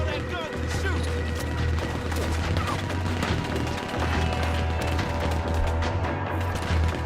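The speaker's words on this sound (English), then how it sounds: "He's going for the Gatling! Look out, he's firing!" Gatling gun firing in a Red Dead Redemption 2 gunfight, a dense rapid stream of shots rolling on continuously at close range, mixed with other battle noise throughout.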